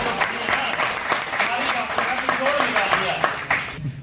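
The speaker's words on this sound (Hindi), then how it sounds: "जोरदार तालियां हो जाओ भाई।" An audience at a Hindi-language gathering with a poetry recitation breaks into applause, dense rhythmic clapping with sharp individual claps standing out, close and steady for about four seconds before tapering off.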